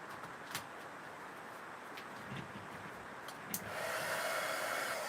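A handheld heat tool switches on partway through and blows a steady, fairly loud whooshing air stream to dry a handmade card, after a few quiet table knocks.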